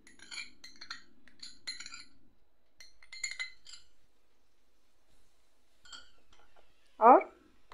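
A spoon clinks against a bowl while curd is mixed for a chicken tandoori marinade, light scattered metallic taps in short bursts with pauses between them, ending on one louder ring.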